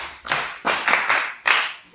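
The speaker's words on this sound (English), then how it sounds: "Good, clap for her." A classroom of pupils in an ICT lesson claps for a classmate in four quick, loud bursts of group clapping, close and unaccompanied by speech.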